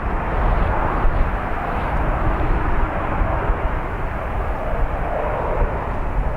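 A Ryanair jet at Dublin Airport, a loud, steady, broadband engine roar with a deep rumble that holds evenly throughout, heard alone without talk.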